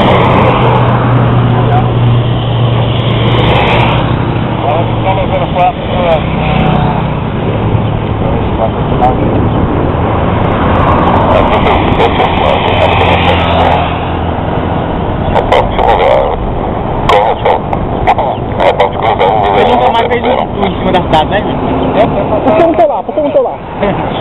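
Wind rushes against the microphone as cars pass along a road, engines rising and fading, while someone talks over the noise.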